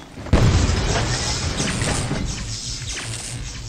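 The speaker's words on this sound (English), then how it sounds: "we need to throw an electric grenade at it" An electric grenade explodes in the video game Heaven Dust 2, a single sudden loud boom followed by a crackling, fizzing tail that fades over a few seconds.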